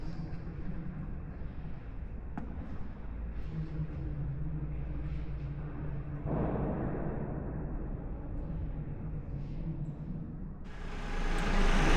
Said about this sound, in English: So excuse the construction noise